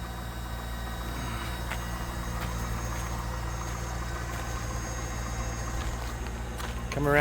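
A Corvette engine idles steadily with a low continuous rumble close by and no talking, then rises slightly at the very end.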